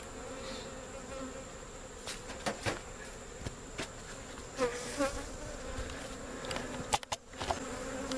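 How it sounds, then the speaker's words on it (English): A small honeybee swarm relocating in a field, with homeless field bees joining; a dense, steady buzzing of many bees close by, broken by a few soft knocks and thumps. "Those bees are moving in fast."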